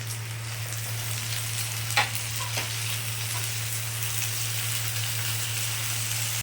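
Tomatoes fry in a pan with a constant soft sizzle over a low steady hum, and a couple of brief scraping taps come as they are stirred.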